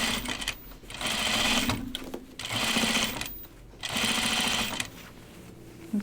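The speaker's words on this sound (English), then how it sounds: "I'm going to stitch along that top edge too" A sewing machine stitches pajama bottoms in three loud, fast bursts of whirring, each lasting about a second, separated by short pauses.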